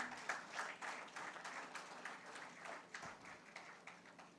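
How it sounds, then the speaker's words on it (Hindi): Audience applause at an award ceremony honouring achievers in Jhunjhunu, steady rhythmic clapping from a crowd heard somewhat distant and fairly quiet, continuing without pause through the moment. "तालियां बजाते रहिए।"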